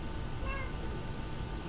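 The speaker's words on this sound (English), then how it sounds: "And my cat's unhappy again." A house cat meows unhappily in a few drawn-out, whiny cries, fairly faint against a low steady background hum.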